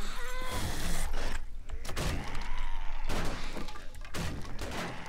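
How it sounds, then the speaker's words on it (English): Zombies breaking down a door in the survival game 7 Days to Die: repeated heavy thuds and crashing impacts in dense bursts, loud and close, with short pauses between blows. "Well, they're making short work of that door."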